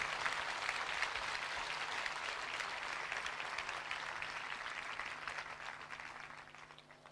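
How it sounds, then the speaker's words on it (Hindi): A church congregation claps loudly and continuously during a sermon, a dense, roomy wash of applause that slowly fades toward the end. "आओ ऐसे खुदा के लिए जोरदार तालियां बजाएं"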